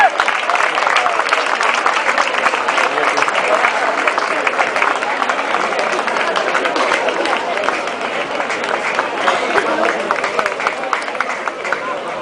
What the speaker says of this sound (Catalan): un fort aplaudiment per tots ells